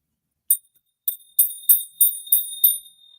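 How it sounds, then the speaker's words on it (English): A small vintage copper souvenir bell from Washington, the Evergreen State, rings about seven times in quick succession, each strike a bright, close, high tinkle that rings briefly before the next. "if you can hear the bell"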